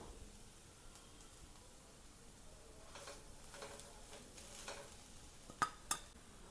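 Boiled potatoes are stirred together with salt and garam masala, producing soft, faint scraping and mixing sounds with a couple of sharper clicks of the spoon near the end.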